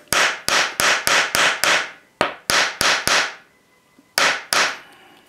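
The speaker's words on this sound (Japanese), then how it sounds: "こういう金槌でこの頭ちょっとくさびにするんですよ" A small hammer taps the head of a pin in a watch chain band to spread it into a wedge, about a dozen sharp, close, loud metallic strikes in quick bursts with brief pauses between groups.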